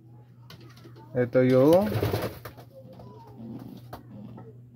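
Pigeons kept by a breeder in the Philippines give a loud cooing call that rises and bends near the start, then fades into softer coos, with someone talking over and around the birds.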